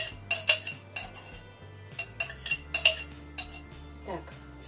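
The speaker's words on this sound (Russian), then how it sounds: "Чуть-чуть потарабаню вам тут по стеклу." A utensil taps on a glass while thick kefir is mixed for a kefir pie batter, giving several sharp, bright clinks in quick bursts, close by, over quiet kitchen background with faint low hum.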